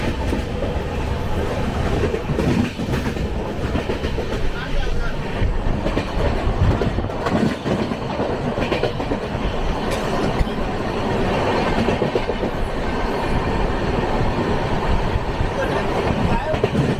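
A 12340 Coalfield Superfast Express passenger train runs steadily along the tracks, with loud, continuous rumble and rhythmic wheel clatter from on board throughout, with no talk heard.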